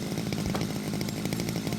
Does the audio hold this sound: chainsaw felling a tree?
yes